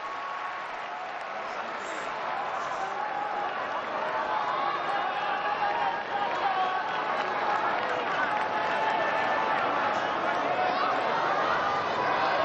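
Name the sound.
home crowd buzzing after a score at a rugby match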